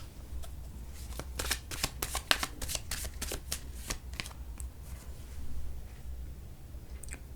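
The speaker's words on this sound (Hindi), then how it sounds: "थोड़े और कार्ड्स लेते हैं, इस रीडिंग को पूरा करते हैं।" Tarot cards are shuffled and drawn up close, a quiet run of rapid papery riffles and flicks with short pauses, with no talk over it.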